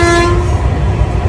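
A train at a railway station, a loud steady rumble with a long sustained horn tone near the start, close and continuous throughout, with no talking.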